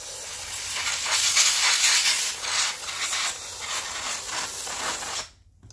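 An aerosol can of parts cleaner sprays in a steady, loud, close hiss for about five seconds, with slight pulses in strength, then cuts off abruptly.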